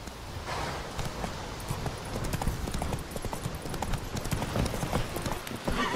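A horse galloping in the video game The Witcher 3, steady clip-clop hoofbeats close up and continuous, with ambient game sound beneath.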